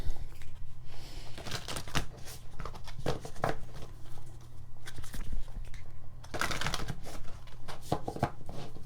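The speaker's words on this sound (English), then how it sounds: "card dealer shuffle." Rapid crisp riffling and flicking of an oracle card deck in a card-dealer shuffle, repeated in bursts over a steady low hum, with soft taps and shuffling between.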